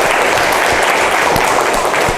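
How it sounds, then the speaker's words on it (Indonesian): Classroom applause from students during a teaching session, a dense, loud burst of clapping that fills the short moment with no talk over it. "tepuk tangan."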